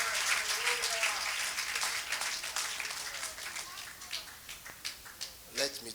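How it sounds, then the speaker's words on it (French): A church congregation applauds, a dense wash of clapping that fades gradually, with a speaking voice heard near the end. "Acclamez pour Jésus."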